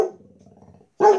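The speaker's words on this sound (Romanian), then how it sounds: "Să nu mai țipe căcatul ăsta de câine." A dog barks and growls close by: a short growl trails off, then one loud sharp bark follows after a brief silence.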